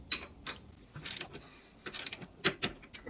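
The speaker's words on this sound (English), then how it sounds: "We'll torque this to 14 foot-pounds." Torque wrench clicking and ratcheting while tightening new steering components on a 1999 Chevrolet Suburban C1500, several short metallic bursts in an irregular rhythm, close and fairly quiet.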